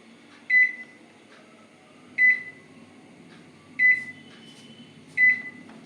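A microwave oven set to reduced power while cooking rice pulao sounds four short, evenly spaced beeps, roughly every one and a half seconds, over a quiet low hum.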